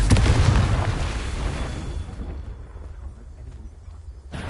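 A Confringo fire spell bursts in Hogwarts Legacy, a heavy booming explosion with a deep rumbling impact that slowly decays into a lingering roar.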